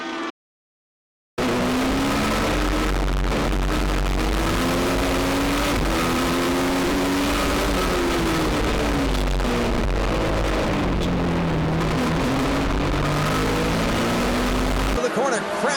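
Race cars roar around Citrus County Speedway during a winter nationals event as one car spins and slides, engines droning and shifting pitch continuously, with an announcer talking over the track noise.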